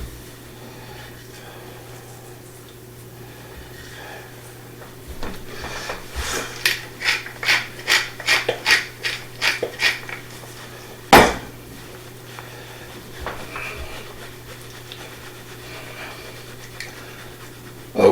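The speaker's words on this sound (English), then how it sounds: "All right, we'll go ahead and whisk this." A honey chipotle shrimp taco sauce is whisked in a bowl, producing a burst of rapid rhythmic metal-on-bowl scraping strokes midway, followed by a sharp clink, with quiet background before and after.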